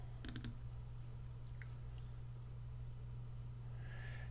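A computer mouse clicks a few quick times in bid estimating software for steel erection, a short close burst at the start followed by a quiet background hum, with no one talking.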